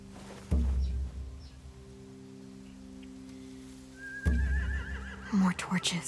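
Horses neigh in a Walking Dead video game scene, a loud whinny bursting in partway through over a low ambient hum, with a whistle-like call rising just before it.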